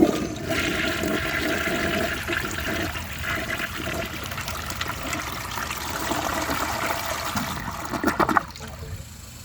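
A 1937 Standard toilet flushes during a washcloth test: a loud, sustained rush of water swirls through the bowl for several seconds, then drains with a gurgling surge and fades to a quieter trickle.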